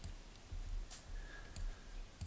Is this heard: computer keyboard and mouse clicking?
yes